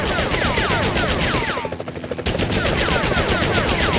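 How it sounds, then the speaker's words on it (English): Rapid, continuous gunfire from the PS1 game Spider-Man (2000), loud and dense bursts with a brief lull midway, accompanied by high whooshing game effects. "Enough with the shooting already!"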